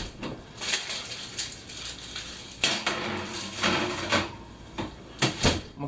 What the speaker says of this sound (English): put these in the oven.